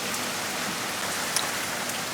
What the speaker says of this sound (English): That's good rain, without beating everything to pieces.